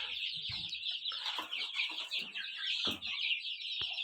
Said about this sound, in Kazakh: ақ браманың 2 балапаны, сары браманың 3 балапаны